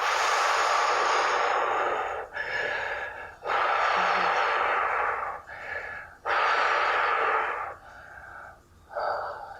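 Slow, audible breaths during a yoga flow, long airy exhales in several drawn-out waves separated by brief pauses, close and fairly loud with no talking.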